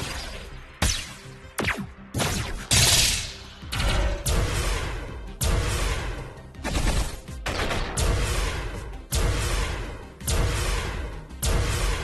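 Fleet guns firing in the space game Station Command: a rapid series of loud, sharp shots and blasts, irregularly spaced with brief gaps, some followed by whooshing or crashing impacts.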